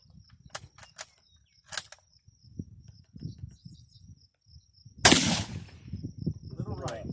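A 1903 Springfield rifle fires one loud, sharp shot outdoors after several seconds of quiet talking, while crickets chirp steadily in the background.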